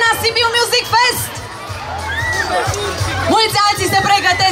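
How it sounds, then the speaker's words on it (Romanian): A festival crowd at the Sibiu Music Fest concert claps, cheers and whoops loudly in a sustained wash of noise, with voices rising and falling through the din. "Haideți să mai aplaudăm o dată!"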